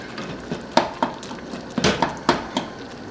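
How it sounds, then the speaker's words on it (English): Soup ingredients mashed in a pot with a meat smasher, a series of about eight sharp, wet, knocking thuds in an uneven rhythm, close and clear with no talk. "we are just going to use the meat smasher. It'll smush some of them."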